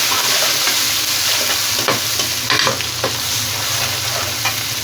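Garlic ginger paste sizzles steadily in a hot pan, a loud continuous frying hiss with occasional scrapes of a spoon stirring, close by.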